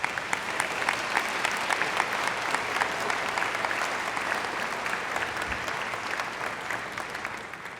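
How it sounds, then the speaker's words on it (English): Sustained, lively applause from a crowd at a high school graduation ceremony honours the chamber orchestra, with sharp individual claps standing out from a thick, even wash throughout. "I'd like to give a round of applause for them."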